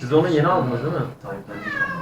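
A pet cat found loose inside an apartment building meows close by while people talk over and around it.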